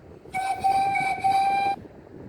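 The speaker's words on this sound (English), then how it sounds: "They then heard a whistle." A single train whistle blows for about a second and a half, bright and steady over a low rumbling background.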